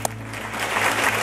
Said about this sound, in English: let's give Jungyeon one more round of applause